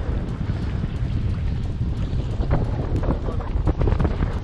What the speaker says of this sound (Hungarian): Csak állítsd le a motort